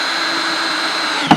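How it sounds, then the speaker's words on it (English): A power drill bores a hole into a beehive box with a steady, close, high-pitched whirring whine, ending in a couple of quick knocks as it stops. "First thing we do is drill a little hole here"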